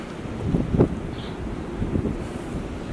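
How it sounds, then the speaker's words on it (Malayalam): Wind blows outdoors in snowy weather as a steady, low, rumbling rush with a couple of brief buffeting gusts striking the microphone, with no voices. "കാറ്റുമുണ്ട് ചില സമയത്ത്"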